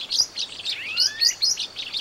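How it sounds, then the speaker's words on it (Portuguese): A yellow-shouldered bird, the encontro, sings at dawn in the caatinga with bright, rapid chirps and a couple of sliding whistled notes, clear and fairly close over a quiet background. "um belo exemplar de encontro amarelo"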